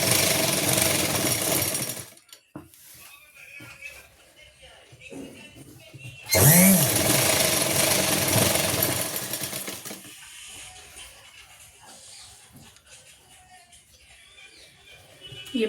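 A sewing machine stitches along the waistband of palazzo pants in two bursts of fast, buzzing whirr, separated and followed by quieter stretches of handling noise.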